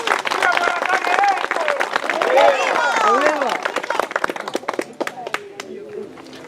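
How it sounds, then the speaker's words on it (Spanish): A crowd at a gathering in Santa Ana, El Salvador, breaks into loud, dense applause with voices and cheers mixed in; the clapping thins to scattered claps and fades toward the end. "Un aplauso, por favor, para ellos."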